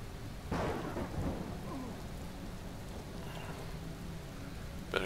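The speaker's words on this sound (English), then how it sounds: "What's attacking me? Oh, the acid rain." Acid rain hisses steadily in the Empyrion Galactic Survival video game while thunder rumbles and cracks near the start, with a sharp crack near the end.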